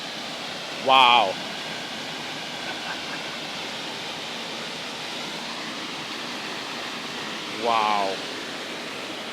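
The waterfall at Roblot Choiseul makes a steady, even roar that fills the whole scene, and a voice briefly exclaims twice over it.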